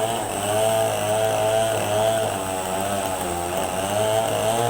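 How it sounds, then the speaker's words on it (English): A chainsaw runs loud and close at a steady high whine while cutting a fallen tree blocking a road, holding a continuous droning pitch with slight wavering as it bites into the wood. "A chainsaw."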